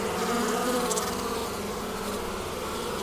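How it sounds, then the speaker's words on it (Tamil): Bees buzz steadily among strawberry flowers in a farm field, a close, continuous droning hum without pauses or voices. "பூக்கள் மலர தேனீக்கள் தூளி தாக்கம் செய்கின்றன"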